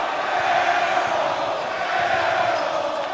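Crowd at a college basketball game, Eagles against Bob Jones University, reacting to a missed shot with a sustained roar of mixed voices that stays loud and even, indistinct talk blended in.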